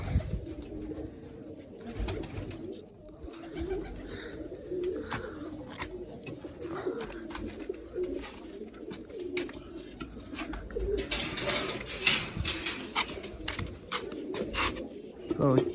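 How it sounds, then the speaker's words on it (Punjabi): Pigeons in a loft, including large breeding pigeons, coo steadily and softly throughout alongside scattered chirps, with low background rumble and occasional voices. "ਇਹ ਜੀ ਵੱਡੀਆਂ ਕਬੂਤਰੀਆਂ ਸਾਰੀਆਂ ਇਹ ਰਾਂਡੇ ਬਹੁਤ ਲਾਈ ਜਾਂਦੀਆਂ"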